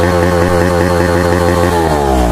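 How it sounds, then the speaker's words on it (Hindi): A motorcycle fitted with an Austin aftermarket exhaust idles and revs up close, a loud raspy buzzing drone with a strong steady pulse that climbs in pitch toward the end. "तो इसकी आवाज़ सुनाते हैं भाई आप लोगों को। भाई एक और आ चुका है भाई अपना, ये देखो भाई ऑस्टिन का एग्जॉस्ट लगवा लिया"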